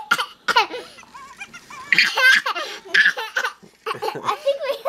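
A Fingerlings Baby Monkey Finn toy laughs repeatedly in bright, high-pitched giggling bursts that run almost continuously, close and fairly loud.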